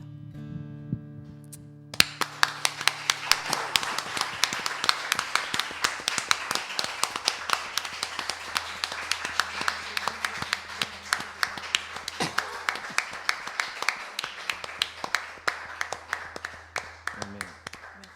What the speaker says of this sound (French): On va applaudir pour le Seigneur.